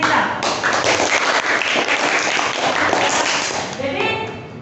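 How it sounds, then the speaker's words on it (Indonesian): A classroom of students gives a round of applause, dense continuous clapping that fills the room at close range, then thins out toward the end. "tepuk tangan untuk kita"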